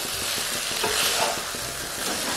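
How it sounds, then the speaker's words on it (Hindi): Hotel-style veg chow mein tossed in a hot pan with two spoons, a steady sizzle and frying crackle under soft scraping and stirring strokes, close and continuous with no talk. "इस तरीके से आप दो चम्मचों की हेल्प से इसे मिक्स करें तो ये आसानी से मिक्स हो जाएगा"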